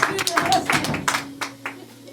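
A few people clap in short, uneven bursts of sharp hand claps that thin out and fade toward the end, mixed in with people talking at a Mother's Day gathering.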